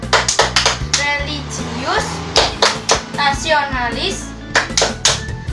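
A group claps sharp, rhythmic hand claps in an Indonesian fifth-grade classroom 'tepuk PPK' clap chant, the claps falling in quick patterned bursts between chanted words spoken loudly over them.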